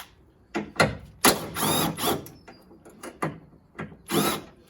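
A ratchet wrench undoes the 13 mm top bolt on a Fiat 500, heard as loud, close bursts of rapid ratcheting clicks in several uneven strokes with short pauses between them.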